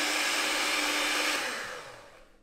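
A Zelmer electric mixer whirs steadily as it mixes gingerbread cookie dough with added water, running loud and close for about two seconds before winding down.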